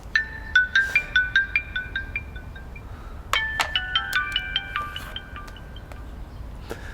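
A phone call rings out as two short series of bright electronic ringing pulses, each a quick repeating melodic trill, separated by a brief pause, clear and fairly close.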